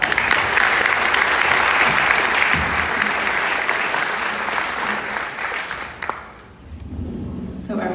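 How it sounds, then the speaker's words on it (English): Sustained applause from a town hall audience, dense and loud clapping that fades toward the end as the crowd settles, with a voice briefly audible near the close. "give the mayor a round of applause for that"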